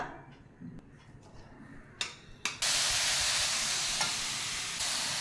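Carrot sautés in ghee in a pan, first a few quiet stirs and clacks, then a sudden loud, steady sizzle that holds evenly to the end.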